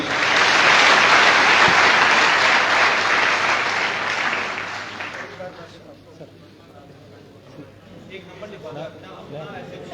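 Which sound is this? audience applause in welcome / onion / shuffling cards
audience applause in welcome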